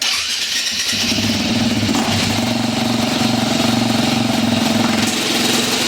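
A KTM EXC dirt bike engine catches almost at once and settles into a loud, steady, buzzing idle that stays close and constant throughout.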